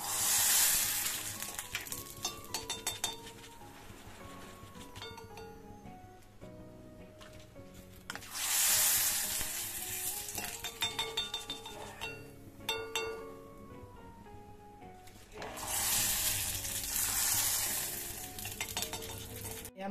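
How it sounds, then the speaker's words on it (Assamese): Homemade rice flour papad frying in hot refined oil, bursts of loud hissing sizzle each time one goes in, fading between, with utensil clinks and stirring. "এয়া মই কালি যে বনাইছিলোঁ সেয়া পাপৰ আজি মই এয়া ভাজি আছোঁ"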